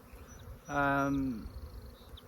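Honey bees fly around hive boxes on a farm during a spring hive split, a soft background hum broken by one louder buzzing insect passing close for under a second.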